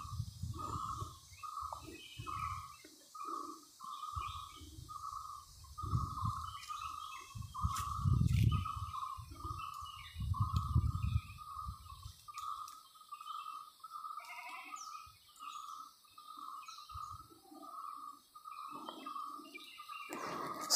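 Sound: sparrows chirping around a village house

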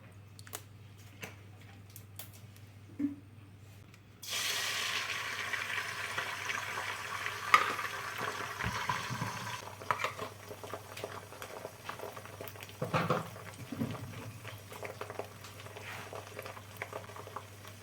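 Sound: frying stuffed egg in a pan

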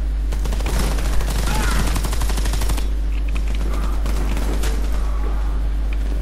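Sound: gunfire in the video game Warface

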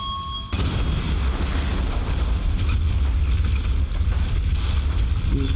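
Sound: explosion in a video game

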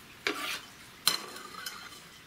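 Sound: onion added to carrots in pan, stirring

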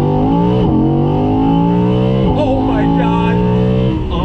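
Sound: 2020 Audi R8 Spyder V10 engine accelerating

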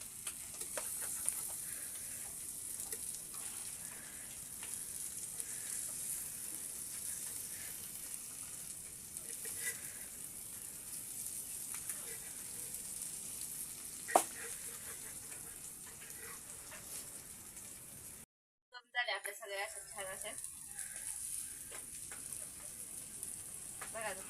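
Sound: fish frying on a wood-fired stove

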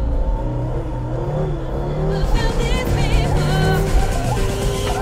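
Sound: worn car differential noise

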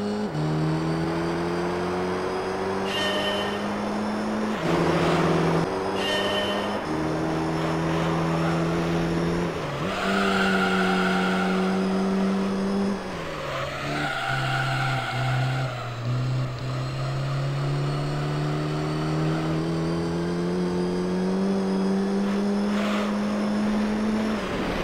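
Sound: car driving on dirt in video game Gran Turismo Concept

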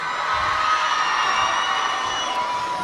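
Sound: crowd applause and cheering for a performer

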